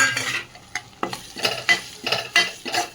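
Spices, chilli, salt, turmeric and kasuri methi sautéed in oil in a pan: rhythmic stirring scrapes, about one every quarter to half second, over a light sizzle, close and without talk.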